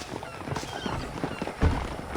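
Horses clip-clop in the Red Dead Redemption video game, steady hoofbeats moving under a layer of game ambience, with a faint whinny.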